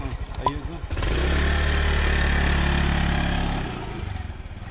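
A scooter or motorbike engine, likely a rental in Cambodia, catches after brief starting noises and settles into a loud, steady idle for several seconds before easing off, with people talking around it.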